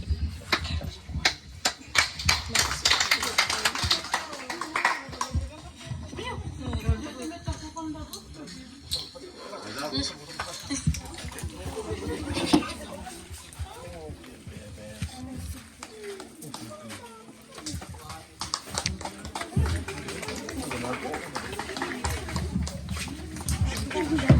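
Students at a collège ceremony in Vao applaud a departing staff member, a lively, irregular burst of many clapping hands mixed with chatter and voices, rising and falling in waves across the room.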